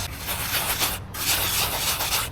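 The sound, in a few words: sand swirled in a gold pan to scratch it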